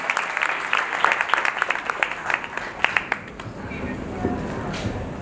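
An audience at a poets' honour ceremony claps for a guest speaker, with sharp individual claps scattered over a looser applause that thins out after a few seconds as a voice begins speaking.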